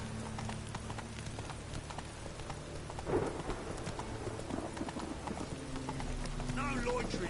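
Roach, the horse in The Witcher 3 on PS4, gallops with steady hoof clip-clop under rain and game ambience, while someone talks over it.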